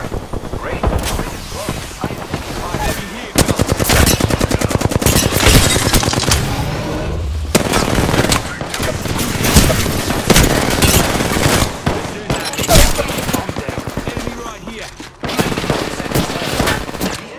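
Apex Legends video game gunfire, dense automatic bursts and loud rapid shots rattling almost nonstop, with brief pauses between volleys and mixed game effects.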